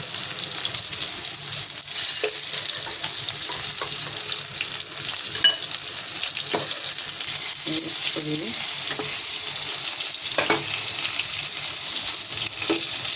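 Food sizzles steadily in a hot pan with a constant crackling hiss, with occasional soft stirring clinks and knocks.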